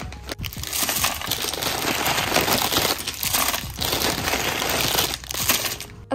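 A large, already opened plastic bag of candies is rustled and handled in a crystal-shop packing room: loud, continuous crinkling and crushing of plastic with brief pauses, close to the microphone.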